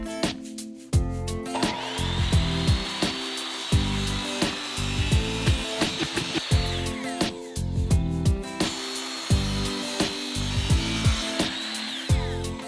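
Power tools at work cutting wood pieces for a home project, with repeated saw whines rising and dropping and sharp knocks and clatters between cuts, close and fairly loud, no talk.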